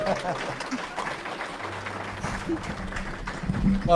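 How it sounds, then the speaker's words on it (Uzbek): An audience at a stage event applauds to welcome a performer, producing a steady wash of clapping that runs underneath a person talking and swells slightly toward the end. "Qani Mahmud Qashqarni chavaqlar bilan sahnaga taklif qilamiz."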